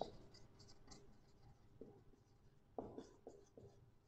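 Marker or chalk writing on a classroom board during a pharmacy lecture on mixing, with scattered short strokes and taps, faint and close, plus a few sharper bursts toward the end.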